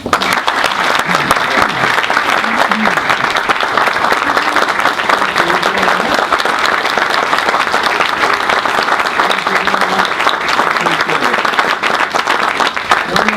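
A crowd at a chilly outdoor groundbreaking event in Bardstown, Kentucky stands and applauds the governor, steady loud clapping continuing without a break for over ten seconds.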